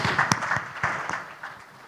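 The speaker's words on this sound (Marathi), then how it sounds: "एकदा जोरदार टाळ्या व्हायला पाहिजेत." A crowd at a Marathi film trailer and music launch breaks into short applause, a brief burst of clapping that fades within two seconds.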